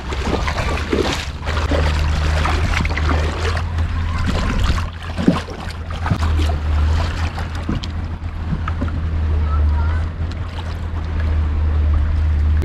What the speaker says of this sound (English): So this is a boat here,